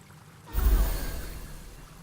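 In Baldur's Gate 3, water from a restoration faucet rushes out in a sudden, close gush that starts abruptly and then settles into a steady, hissing flow.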